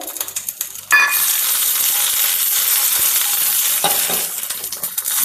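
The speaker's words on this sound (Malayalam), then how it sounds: "കലക്കി വെച്ചിട്ടുള്ള സാമ്പാർ പൊടി ഇതിലേക്ക് ഒഴിച്ചു." Sambar powder mixed with water poured into a hot pan of sizzling oil, a sudden loud burst of frying that holds as a dense, steady hiss close by, easing slightly toward the end.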